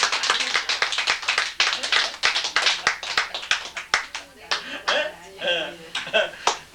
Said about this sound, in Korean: 우리도 공부 안 한 것보다는 우리도 나으니까 자신을 위해서 박수 쳐자고.